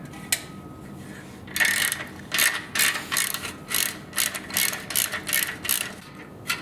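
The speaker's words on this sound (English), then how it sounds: "we're going to use a 15mm bolt for this." A hand ratchet working a 15mm bolt on a slip-on motorcycle muffler of a 2017 Victory Octane, a run of quick rhythmic clicking strokes up close, fairly quiet, with no talking.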